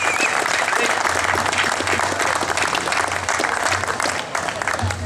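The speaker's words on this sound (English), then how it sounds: "Can I have another round of applause?" An audience at a Second Amendment speaker event gives a sustained round of applause, with steady, dense clapping that stays loud throughout, mixed with a few crowd voices.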